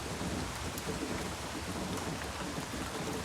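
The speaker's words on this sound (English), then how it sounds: "Still raining" Heavy rain pours steadily, a loud dense wash with low rumbling underneath, continuous and with no voices.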